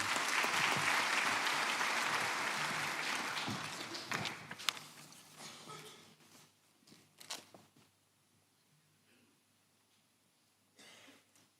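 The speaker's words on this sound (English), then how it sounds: "can we give an applause to all our graduates this afternoon?" Audience applause for graduates at a University of South Africa autumn graduation ceremony, a broad sustained wash that fades after about five seconds, leaving faint scattered claps and room noise.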